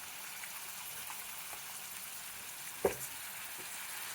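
Bitter gourd with turmeric frying in a pan for a masala dish, a steady soft sizzle with a brief clink of stirring near the end and no talking.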